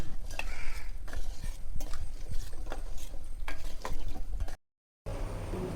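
A ladle stirs pumpkin and melting jaggery in a pot for payasam, giving close, continuous scraping and sloshing with light clinks, broken by a brief silence near the end.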